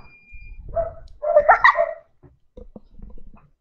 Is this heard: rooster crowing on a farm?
no